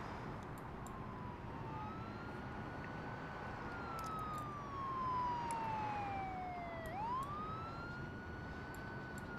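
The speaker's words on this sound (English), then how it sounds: "And lights and sirens." Emergency vehicle siren in a rescue video game, a steady wailing tone sweeping up and down in pitch over a continuous background hum, with faint clicks scattered throughout.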